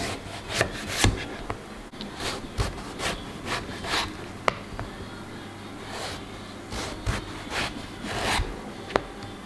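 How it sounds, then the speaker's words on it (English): A knife slices through eggplant on a cutting board for eggplant parmesan, giving a run of crisp, uneven cutting strokes and scrapes at close range, with no talk. "But then I'm gonna make some slices."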